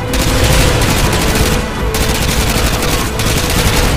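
Sustained loud automatic gunfire in Call of Duty: Modern Warfare 2, dense and continuous with a couple of short breaks between bursts.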